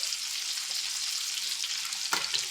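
Liver fries in a covered pan on low heat, giving a steady, faint sizzle with a brief clink near the end and no talking.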